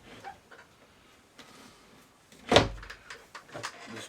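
A drawer on an electronics workbench is yanked open once with a sharp, loud clunk near the middle, surrounded by quieter rustling and small handling noises.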